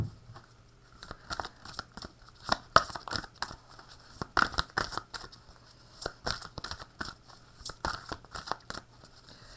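Tarot cards are shuffled and drawn, making a dense run of quick, crisp flicks and papery riffles close up, uneven in rhythm and fairly quiet throughout.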